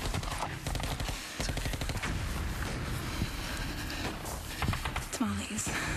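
Rapid gunfire crackles in a dense, loud burst throughout, with people talking over the shots.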